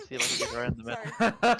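A person sneezes sharply twice in quick succession near the end, following a stretch of close speech and game sounds during a tabletop fantasy session.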